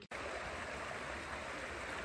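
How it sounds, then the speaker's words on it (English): A creek flows along a hiking trail at Natural Bridge State Park in late October, a steady, soft rushing of water that continues unbroken after a brief gap at the very start. "this is more of the creek along one of the trails at the Natural Bridge State Park"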